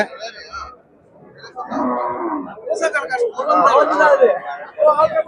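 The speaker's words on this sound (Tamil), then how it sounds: "பாருங்க எவ்வளோ மாடுகள் வந்திருக்குன்ட்டு" Cattle, including large heavy HF cows, mooing and lowing nearby amid a busy crowd at a cattle market in Karimangalam, with people chattering in the background of a noisy livestock gathering.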